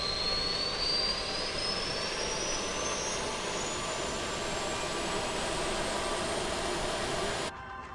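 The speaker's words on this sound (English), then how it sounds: "Hear the APU coming up." An airliner's auxiliary power unit spinning up in Microsoft Flight Simulator, a steady loud turbine roar with a rising whine that climbs in pitch over several seconds before cutting down near the end.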